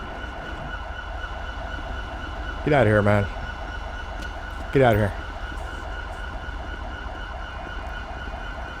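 In the video game GTA 5, an ambulance siren wails steadily under road traffic, with two short rising sweeps cutting in. Someone speaks briefly over it.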